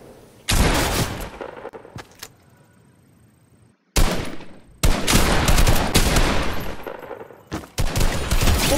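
Loud, sustained rapid-fire gunfire from Fortnite gameplay, in long continuous bursts broken by brief pauses, close and dominant throughout.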